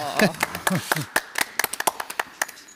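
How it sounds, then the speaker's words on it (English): One person claps for an award and prize cheque winner at a European literature prize ceremony, a short run of sharp close claps that follows a brief stretch of talking. "let me applaud for you"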